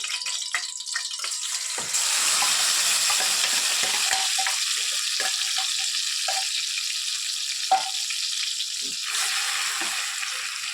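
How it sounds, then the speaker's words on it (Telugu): Prawns fry in hot oil and ghee in a pan for a restaurant-style prawn biryani, a loud, continuous close-up sizzle that jumps up after a softer start and holds steady. "ఒక టూ మినిట్స్ అలాగా రొయ్యల్ని ఫ్రై చేయాలి"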